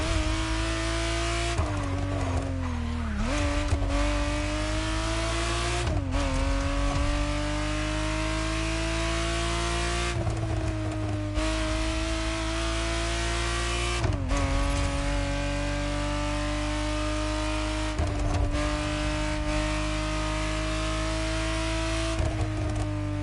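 A 1991 Ferrari Testarossa flat-twelve in The Crew Motorfest drives hard, its loud steady engine drone climbing through the revs with sharp dips at each gear change, running continuously for the whole stretch with no talk.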